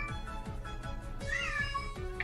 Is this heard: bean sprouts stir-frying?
no